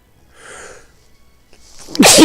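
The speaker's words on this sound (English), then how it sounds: "I feel like I gotta sneeze." A single loud sneeze bursts out near the end after a faint, breathy build-up, close and sharp with no talk around it.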